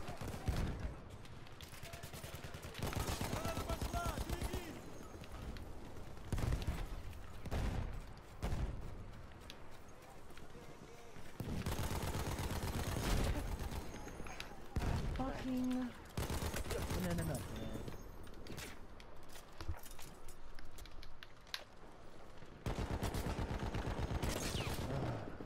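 A Battlefield 1 firefight with loud, close gunfire: bursts of rapid automatic shots and heavier blasts arrive in several clusters across the stretch, with someone talking intermittently between and over them.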